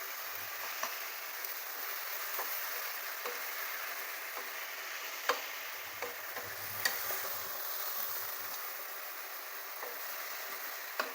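Onions lightly sautéing in a pan for onion chutney, a quiet steady sizzle with scattered faint ticks and pops from stirring, heard on its own.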